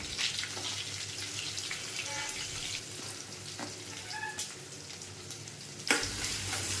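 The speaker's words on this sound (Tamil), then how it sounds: "அதுக்கப்புறம் நம்ம வெட்டி வச்சுருக்கிற வெங்காயம், ஆனியனை வந்து அதில் நம்ம போட்டுக்கலாம்." Chopped onions sautéing in oil in a pan for a fish curry, a moderate sizzle with scattered stirring scrapes and a sharp knock near the end, close, no voices.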